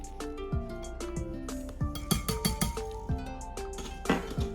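A utensil clinks and scrapes against a mixing bowl while stirring flour, sugar, baking powder, salt, ginger and cinnamon together for an apple cake batter; irregular close-up taps with no voices.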